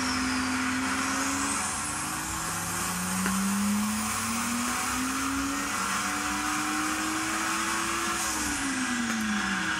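A turbocharged car on a dyno, stock ECU at about 16 psi of boost, roars steadily throughout as the engine note climbs through the gears in rising sweeps, loud and continuous with no talk.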